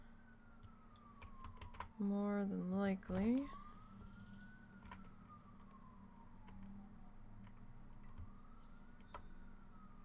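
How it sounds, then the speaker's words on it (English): An ambulance siren passes by outside, heard faint and distant as a slow wail rising and falling in pitch, with a brief spoken phrase and a burst of clicking close by partway through. "It's probably an ambulance going by."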